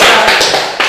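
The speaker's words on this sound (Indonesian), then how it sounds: "Kita tepuk tangan kawannya." Fifth-grade classmates clap their hands together in a classroom, a short burst of a few sharp, close claps at an uneven rhythm, with no talking.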